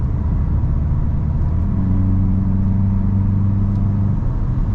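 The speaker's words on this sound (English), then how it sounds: "let's see if there's any turbo lag right now, right? Stepping on it." A 2022 Volkswagen Golf GTI (Mk8) turbocharged engine rises in pitch as the car accelerates hard, a loud, steady low roar with road rumble, heard from inside the cabin.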